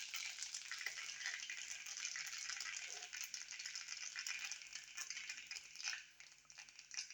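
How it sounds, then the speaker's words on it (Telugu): Mustard seeds and cumin spluttering in hot oil while making upma, a steady dense crackle with faint rattling pops, continuous and close, dipping briefly near the end. "ఆయిల్ కొంచెం గరం అయినాక ఆవాలు వేసుకున్నా, కొంచెం జీలకర్ర వేసుకున్నా"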